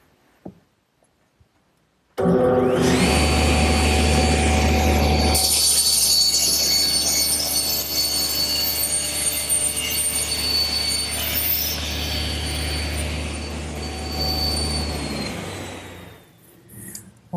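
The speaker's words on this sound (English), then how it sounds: "I'm going to use my homemade panel cutter, which simply rides in the miter gauge slot" A table saw starts with a loud whine and rips through a side panel, guided by a homemade panel cutter riding in the miter gauge slot. Steady, close cutting noise holds for about twelve seconds, then winds down to quiet.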